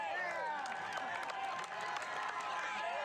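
Crowd at the IRONMAN 70.3 Geelong finish line, a dense continuous roar of cheering and clapping with a commentator talking over it.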